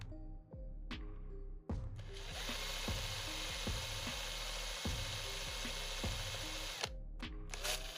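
A power drill bores into a Hot Wheels die-cast toy car, a steady close whine with a repeating ratchet-like clicking rhythm, briefly pausing near the start and cutting out near the end.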